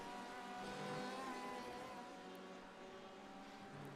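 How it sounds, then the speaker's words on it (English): A Chevrolet Corvette C8.R GTE race car, number 34, runs at Daytona in iRacing, its engine a steady, faint tonal drone held at high revs throughout. "Bo Condon on track right now in the number 34 Chevrolet Corvette C8.R"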